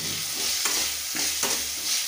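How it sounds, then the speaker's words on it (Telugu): Chopped tomato and carrot pieces fry and sizzle in a hot pan while making upma, a steady close crackle broken by a few stirring scrapes. "టమోటా కూడా ఫ్రై అవుతుంది."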